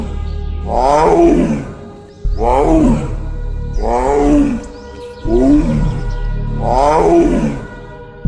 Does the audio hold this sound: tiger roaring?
yes